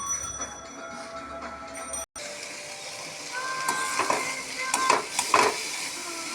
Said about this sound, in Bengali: শাপলা ভাজা চিংড়ি রসুন আর কাঁচা লঙ্কা দিয়ে